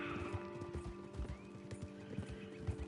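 Horse hooves clip-clop at a steady trot in Red Dead Redemption 2, a close, rhythmic beat of regular thuds over a busy game backdrop, with a brief neigh partway through.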